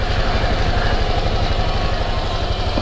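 A repaired Honda Click V2 scooter engine, stock with a replaced piston, idles steadily and close by, a continuous low puttering drone with no talk over it.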